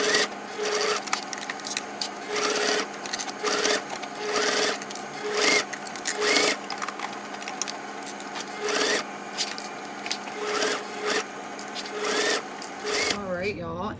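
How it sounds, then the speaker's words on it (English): A sewing machine stitches binding onto a fabric bag, its motor running in steady bursts with brief pauses between runs, fairly loud and close, ending with a short softer sound. "So now let's sew our binding on and we'll be done."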